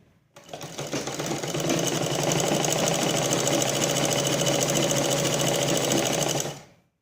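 An electric sewing machine runs continuously at a steady, rapid stitching rhythm while sewing a waistband onto a blouse, close and loud, with no speech, winding down at the end.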